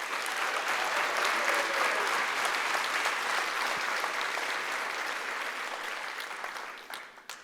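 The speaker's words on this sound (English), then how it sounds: "Will you all please join me in giving a round of applause?" Audience applause fills a hall at a science event, a steady, dense clapping from a sizable crowd that holds for several seconds and then thins out and fades at the end.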